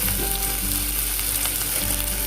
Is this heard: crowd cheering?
no